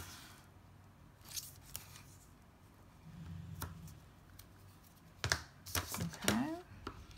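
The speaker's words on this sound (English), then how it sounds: "we're just gonna put 2 strips of tear and tape right on the inside here" Strips of tear and tape pulled, torn and pressed inside a criss cross card box: sharp ripping and tearing sounds with crinkly tape handling, close and quiet, with soft talk in the background.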